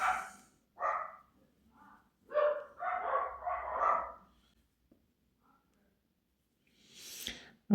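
Dogs bark excitedly in a series of short, clustered bursts over about four seconds, fairly close and loud, then a quiet pause before one final sharp bark.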